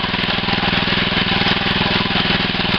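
Diesel-type engine of a deep well drilling rig running steadily while raising the drill, a close, loud rhythmic chugging throb with a dense mechanical rattle and no talking.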